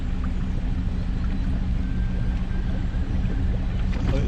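Continuous low rushing and bubbling of water flowing through a canal lock bywash, loud and steady throughout, heard near a narrowboat.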